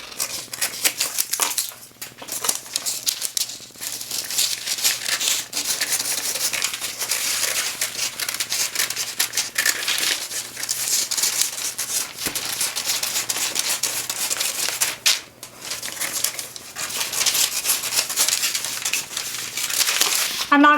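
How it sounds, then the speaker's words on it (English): Scissors cut out a paper sewing pattern for a dress torso sloper, giving a steady run of crisp snipping and paper crinkling up close, with no talk. "Now I'm going to go ahead and cut this out. This will be a paper pattern."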